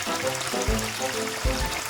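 Hands are wet under a running tap, a close, steady stream of water with soft splashing pulses where the hands break the flow. No one speaks.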